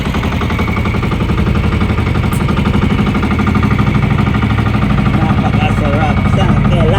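A fishing boat's motor started and running, a loud close rapid chugging rattle that keeps a steady rhythm throughout, with no talk over it.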